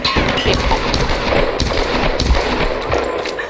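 Rapid gunfire from a firefight in the Tomb Raider video game, a loud, steady stream of closely spaced shots running throughout with no pause and no talking.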